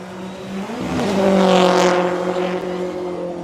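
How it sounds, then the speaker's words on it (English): A turbocharged rally car's exhaust howls as it drives high on the banking at Newport Speedway during the Overmountain Rally in Tennessee, swelling loud as it approaches and passes, then fading with a steady droning engine note. "Hopefully you guys can hear the exhaust going high on the bank."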